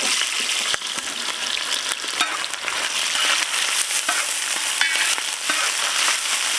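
Chopped onions fry in hot cooking oil for a village-style mutton saaru, giving a loud, continuous crackling sizzle scattered with quick sharp pops and spits, close and unbroken.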